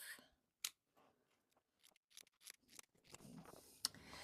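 Scissors snip through a sewn seam allowance on a biker jacket sleeve lining, a few faint, sparse close cuts spread over quiet moments with slight fabric handling, no talking.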